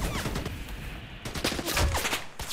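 Rapid gunfire in a multiplayer shooter video game, several overlapping bursts and volleys from more than one weapon cracking back and forth at moderate loudness, with no one talking.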